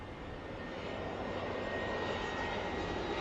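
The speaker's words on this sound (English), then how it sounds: "Look at these planes. See the planes? They're going in, they fly into Key West." Airplanes flying low overhead on approach into Key West airport in Florida, a steady, loud engine roar that holds without a break the whole time, with no talking.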